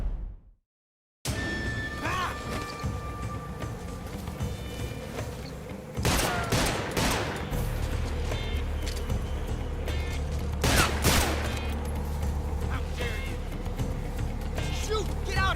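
Gunfire in a Metal Gear Solid Delta shootout, with dense bursts of shots and sharp cracks over a constant mechanical rumble, following a brief silence at the start; voices call out now and then.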